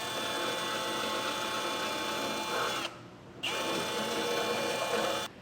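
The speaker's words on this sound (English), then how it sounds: "We're going to take a 9/16 die grinder and grind these two holes out so that the hardware will fit." A 9/16 die grinder grinds out bolt holes in a car's steel bumper beam, a loud, steady high-pitched whine in two bursts separated by a brief pause.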